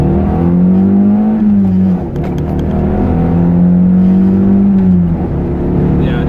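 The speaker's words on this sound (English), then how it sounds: "Let's bust out some shifts here and see how it do." Toyota MR2 AW11 with new engine mounts revving up through the gears, engine note rising steadily then dropping at each shift around two and five seconds, loud and close with no talk.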